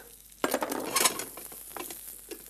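Garlic hits a hot pan of browning mushrooms with masala paste and sizzles in a sudden loud burst. Stirring and scraping follow, and the frying settles to a softer crackle.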